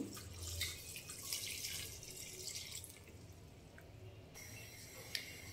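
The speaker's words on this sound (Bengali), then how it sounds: "এবং সবশেষে দিয়ে দিব পরিমাণ মতো পানি।" Water pours and trickles into a pot of Sylheti tomato tenga, a sour tomato curry seasoned with salt, turmeric and chili powder, as a steady liquid splash close by with no talking.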